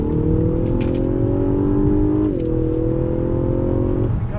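Loud engine of a 2019 Lexus LS 500 sedan revving hard as it accelerates from a standstill in Sport Plus mode, pitch climbing steadily, dropping briefly at a gear shift, then rising again.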